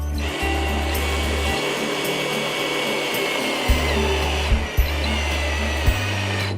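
A power screwdriver drives screws into pallet wood slats on a rafter, a loud steady motor whine with low hum that cuts off and restarts several times, with small knocks between runs.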